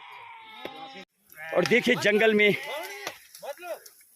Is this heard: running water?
no